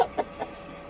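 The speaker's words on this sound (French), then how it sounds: "Ce sont de très grosses poules." Large hens clucking nearby, two or three short, soft clucks in quick succession over a quiet background, with no one talking.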